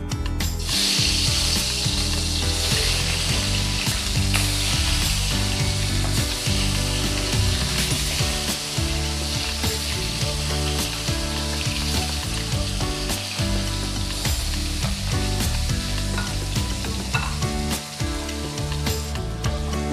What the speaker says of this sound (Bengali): তেল গরম হয়ে গেছে এবার আমি মাছগুলো দিয়ে ভেজে নেব